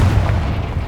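Confringo blasting spell in the Hogwarts Legacy video game goes off as a loud, deep, rumbling explosion that fills the whole short moment, a heavy sustained boom.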